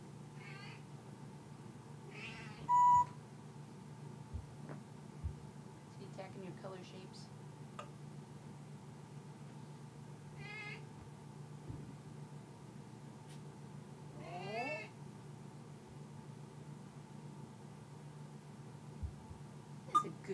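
An African grey parrot imitates a cat's meow in short, scattered bursts across a quiet room, with a person speaking intermittently and occasional small ticks and taps.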